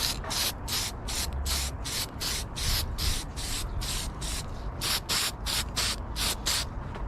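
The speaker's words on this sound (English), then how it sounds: "pull this bracket off, and then we're just gonna give it a nice coat of black" A can of black spray paint coats a car bracket in rapid, rhythmic hissing bursts, about a dozen short sprays in quick succession, close and steady with no talking.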